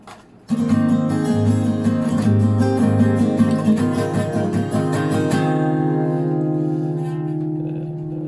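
An acoustic guitar plays a three-chord intro to a song, bright strummed and picked notes ringing close and clear, then a final chord left to decay slowly.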